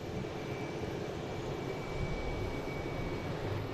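A JetBlue jet airliner rumbles steadily at a moderate distance, a continuous low roar with a faint high whine running through it, no voices.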